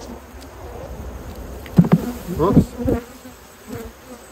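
Honeybees buzz softly around an open colony during a hive inspection, with a few louder close passes of individual bees over a low background hum and a brief spoken exclamation.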